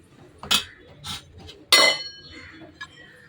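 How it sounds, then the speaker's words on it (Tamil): A metal lid set onto a pot of seeraga samba rice gives a few crisp clinks and clanks close by, the loudest near the middle, in an otherwise quiet kitchen. "அந்த மூடியாக போட்டு மூடி"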